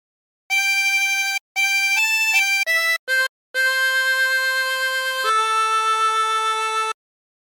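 A 20-hole tremolo harmonica plays the opening phrase of the hymn What a Friend We Have in Jesus, a sequence of sustained wavering notes separated by short breaths, clear and solo.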